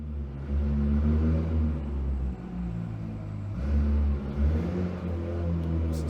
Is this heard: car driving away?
yes